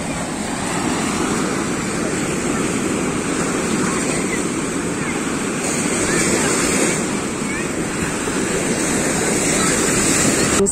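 Sea waves break on the beach at Maresias on Brazil's north coast, with a high sea after heavy rain, giving a steady loud roar of surf mixed with wind buffeting the microphone.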